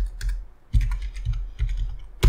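Brisk keystrokes on a computer keyboard, a few quick taps in short bursts with brief pauses between, close and clear.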